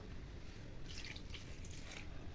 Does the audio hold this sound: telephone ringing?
no